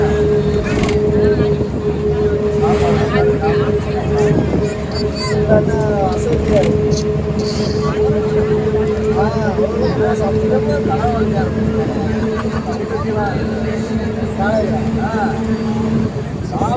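A tourist boat motors across the lake at Thekkady, a steady engine drone with wind buffeting the microphone, while people talk throughout.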